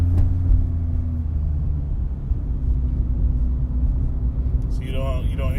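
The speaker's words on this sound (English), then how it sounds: "So we're going to drive a little bit and go over some speed bumps." A 2012 Mitsubishi Outlander Sport ES with a CVT transmission rolls slowly over speed bumps, giving a steady low engine and road rumble from inside the cabin, and a voice speaks near the end.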